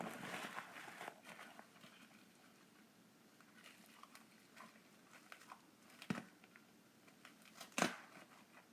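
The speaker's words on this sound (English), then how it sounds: "I'm cutting the edge on the diaper." Quiet, close snipping and crinkling as scissors cut through the edge of a soft padded diaper, with a few sharper clicks and rustles.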